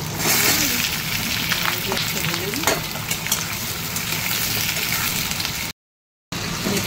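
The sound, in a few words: bay leaf frying in oil in pan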